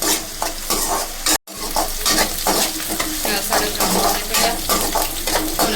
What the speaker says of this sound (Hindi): प्याज में हल्का हल्का ब्राउन करेंगे